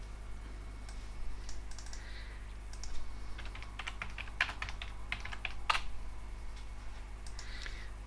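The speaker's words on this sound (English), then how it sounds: "then I can type my text" Typing on a computer keyboard while building a website page, a close, steady run of light clicking keystrokes in uneven bursts over a low electrical hum.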